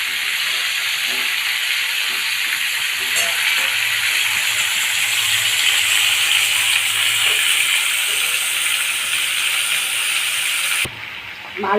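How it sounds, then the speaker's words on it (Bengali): Potato and pointed gourd pieces fry in hot oil with a dense, steady sizzle, loud and close throughout, with a few faint clinks before the sound cuts off near the end. "আলু পটলটা একটু ভালো করে ভেজে নেবো, নিয়ে তারপরে বানাবো।"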